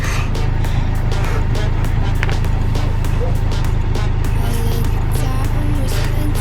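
Honda S2000 with a Magnaflow exhaust, a loud steady engine drone heard from inside the moving car, continuous throughout with road noise and talk over it.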